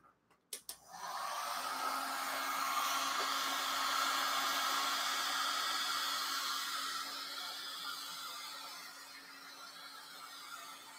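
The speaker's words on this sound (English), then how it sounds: "I think I'm just going to use the heat gun on it a little bit more." A heat gun blows steadily while drying a freshly printed shirt, a loud continuous whooshing hiss with a faint whine, preceded by a couple of brief clicks as it starts.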